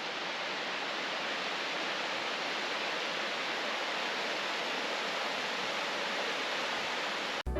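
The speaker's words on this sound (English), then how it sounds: "And here's Vidae Falls from another perspective." Vidae Falls, a spring-fed waterfall, pours in a steady, full broadband roar that stays constant and close from start to finish, with no voices.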